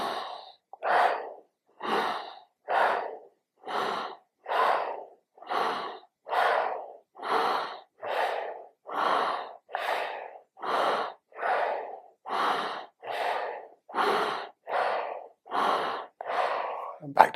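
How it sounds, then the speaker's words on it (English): A steady series of short, partial breaths, each quick inhale and exhale sounding close and clear at an even rhythm, roughly one every second, with brief silences between them. "Little inhale, little exhale."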